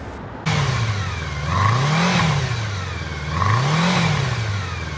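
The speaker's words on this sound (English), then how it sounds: "I really like the rev sound of it." A 1992 Honda Nighthawk CB750 motorcycle engine revs up twice from a steady idle, each rise and fall in pitch coming clearly and close by, with no talking over it.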